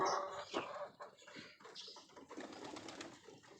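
Racing pigeons coo and flutter close by in a short burst of overlapping calls and soft wing sounds, with no voices.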